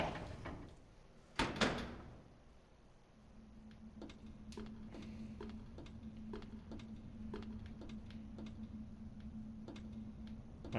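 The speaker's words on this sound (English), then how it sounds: "So we'll head through this door right here." A heavy door in the Resident Evil Zero laboratory swings open with a sharp clunk, followed by a steady low mechanical hum and faint regular ticking clicks.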